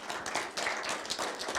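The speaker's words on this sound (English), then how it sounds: "so give him a warm round of applause." Steady applause from an audience, a dense wash of many hands clapping continuously at moderate volume for a short stretch.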